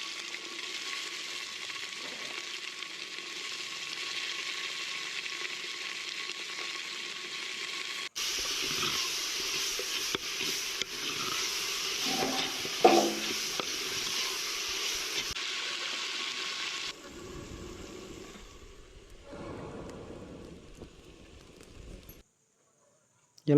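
Tomatoes sautéing in a pan for an anchovy (neththili karuvadu) curry give a steady close sizzle and hiss, louder in the middle stretch, with some clatter before fading near the end.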